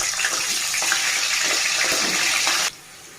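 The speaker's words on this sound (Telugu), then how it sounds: "వంకాయలు అయితే ఇలా ఫ్రై అవుతున్నాయండి." White brinjals fry in hot oil in a pan. The sizzle is loud, dense and hissing, holds steady for nearly three seconds and then drops away abruptly.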